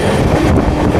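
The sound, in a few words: Amrit Bharat Express train accelerating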